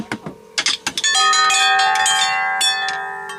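Toy chimes ring out, several quick strikes at first and then a sustained shimmering tone that slowly fades, bright and close.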